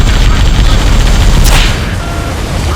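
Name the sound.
gunfire from the video game attacking a vehicle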